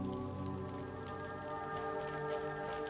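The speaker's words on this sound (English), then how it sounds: "Yay, rain." Steady rain patters down in a roleplay video game, a soft, continuous hiss of drops on surfaces with a faint tonal hum beneath and no talking.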